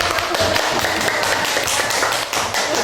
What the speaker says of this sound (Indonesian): Kita kasih tepuk tangan untuk Oleh